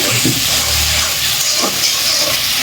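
Meat coated in spices and ginger paste hisses loudly in a hot pan, a continuous close steamy sizzle with brief stirring scrapes.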